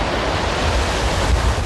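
Ocean waves crash against rocks in a loud, continuous broadband wash with a slight surge, no voices present.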